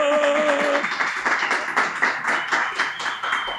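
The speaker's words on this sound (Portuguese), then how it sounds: "Recebam com uma salva de palmas Paula Cassanho!" An audience applauds to welcome a guest onto a podcast set, with a burst of steady clapping that follows a brief tone and continues throughout.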